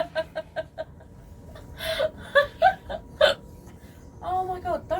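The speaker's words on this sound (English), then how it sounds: "I got hiccups." Hiccups come in a quick series of sharp, high little bursts at close range, mixed with breathy chuckles and gasps inside an Iveco Daily prison van converted to a campervan, with no clear speech.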